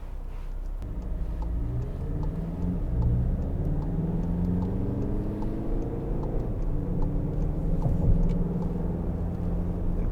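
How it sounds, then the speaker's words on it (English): A car on a road produces a continuous low rumble of engine and tyre noise, steady and moderately loud throughout, with only small swells and no voices. "Lovely car here coming around, another nice car on a day like this"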